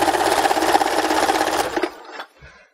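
A sewing machine hums steadily as it feeds scarf fabric through, close and loud for about two seconds before winding down and stopping.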